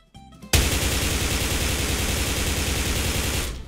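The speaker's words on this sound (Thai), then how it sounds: "อันนี้คือปืนกลธรรมดานะ" Ordinary machine gun in the game Special Force 2 firing into a thick wall at close range, a sustained rapid burst of dense, loud shots that runs unbroken for about three seconds after a brief softer lead-in.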